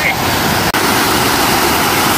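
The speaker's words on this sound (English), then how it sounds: "Look at these waterfalls. It's called the Allison waterfall." Allison Falls, a mountain waterfall near Chinook Lake in Crowsnest Pass, roars as a loud, steady broadband rush of falling water heard up close, with a brief dropout partway through.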